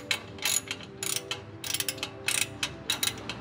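A ratchet wrench tightens the last exhaust bolt on a 2022 Subaru BRZ during an Invidia N2 exhaust install, giving close, bright bursts of rapid clicking in short repeated strokes with brief pauses and no talk.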